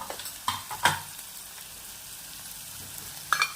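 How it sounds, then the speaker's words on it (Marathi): Onion fried until reddish in a pan with turmeric added, giving a steady sizzle with a few spoon scrapes and clinks near the start and end, close and moderately loud, with no speech. "कांदा बघा छान मस्त लालसर झालेला। आता त्याच्यात आपण 1 चमचा, अर्धा चमचा हळद"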